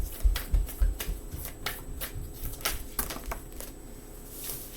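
Tarot cards are shuffled and drawn in a rapid run of crisp riffling snaps and soft slaps, close and clear with no talking.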